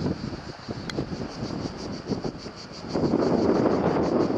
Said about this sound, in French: ah, il y a du vent.